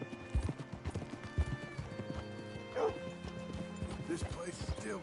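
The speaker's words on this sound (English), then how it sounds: "Hitch your horse up here." Video game horse hooves clip-clop in a steady rhythm amid ambient game sounds, with a short whinny midway and dog-like barks nearby, while a person talks over it.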